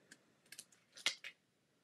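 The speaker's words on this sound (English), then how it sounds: "I'm going to take and trim the edge off that." The edge of a paper craft card is trimmed with a few faint, close, crisp snips and clicks scattered over under two seconds in an otherwise quiet room.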